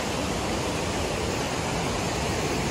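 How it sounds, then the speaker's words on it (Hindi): A river flows steadily beside an outdoor tea stop, a dense, constant rush of water that fills the whole clip at close range with no voices over it. "नदी की आवाज़ सुन के तो मज़ा ही आ गया यार।"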